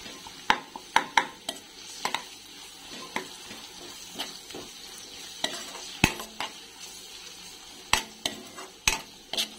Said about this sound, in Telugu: 1 స్పూను అల్లం పేస్టు, 1/2 స్పూను పసుపు వేసుకొని పసుపు అల్లం మొత్తం ఫ్రై అయ్యేంత వరకు కలుపుకొని